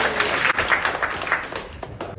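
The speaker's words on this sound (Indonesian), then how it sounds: "Tepuk tangan buat semuanya yang datang." Audience applause at a gathering of remote-area teachers in Indonesia, a dense, steady wash of many hands clapping close by that fades toward the end.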